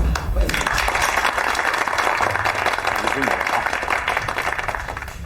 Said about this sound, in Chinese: 大家鼓掌欢迎